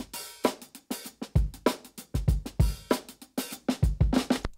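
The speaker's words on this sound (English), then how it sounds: "So, without the Color Box," A dry breakbeat drum loop plays without saturation, a fast, syncopated pattern of tight kicks, snares and cymbal hits, clean and punchy with slightly thinner body.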